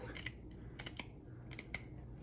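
Scissors snip the small spiky fins off a raw fish being prepped for baking, a handful of sharp, quiet clicks in an uneven rhythm against a soft kitchen background.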